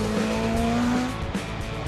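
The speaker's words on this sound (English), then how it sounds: "Slamming on the brakes of a 220-mile-per-hour race car means plenty of heat has to go somewhere" A 220-mph race car's engine roars continuously at close range, a steady loud drone with shifting tones as it slows hard under heavy braking.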